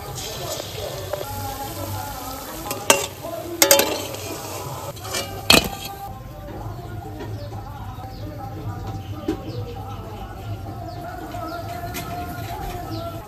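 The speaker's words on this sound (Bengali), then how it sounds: "এইবার সবগুলো আমি এইভাবে ভেজে নেব।" Okra frying in hot oil gives a steady, close sizzle with scattered crackles and a few louder pops, while faint bird chirps sound in the background.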